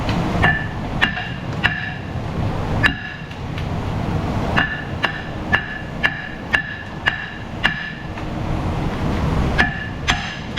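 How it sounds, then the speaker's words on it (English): Sharp metallic hammer blows on a Cadillac front wheel hub ring out in irregular bursts, some in quick succession, loud and close over a low background hum. "Let's try reverse hammering."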